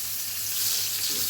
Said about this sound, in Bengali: বেগুনটা আগে ভেজে নিই